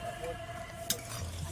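Fish pieces frying in hot oil in a pan for a Bengali fish kalia, a steady close sizzle with one brief sharp crackle partway through.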